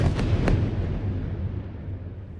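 Aerial bombardment explosions over the Gaza Strip: a few deep booming blasts near the start, then a long low rumble that slowly fades out.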